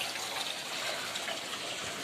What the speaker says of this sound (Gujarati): જો ગૌમુખથી પાણી આવે